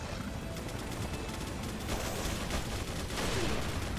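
Dense, continuous gunfire in the Resident Evil 4 video game, a loud sustained barrage of rapid shots with no pauses and no talk, swelling slightly toward the end.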